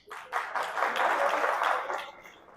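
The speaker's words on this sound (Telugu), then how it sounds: "అరే వా, మీ అందరు గ్రేట్ క్లాప్" A short burst of applause from a seminar audience, clapping swelling quickly, holding briefly, then fading out over a couple of seconds, fairly close and with no talk over it.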